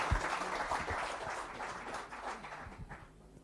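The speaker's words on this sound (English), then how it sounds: "Let's give our panelists a round of applause." An audience at a sustainable business practices workshop applauds its panelists, a moderate, fairly distant patter of clapping that thins out toward the end.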